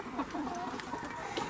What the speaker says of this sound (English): this is one of the Nova Browns. Little red hen. Beautiful birds.